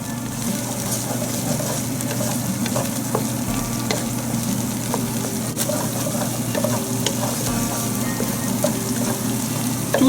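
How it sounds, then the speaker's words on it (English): Mughlai chicken ingredients sizzle steadily in a hot pan over medium-high heat, with occasional scraping and clinks of a utensil stirring, close and continuous. "We will fry this for a couple of minutes on medium-high heat."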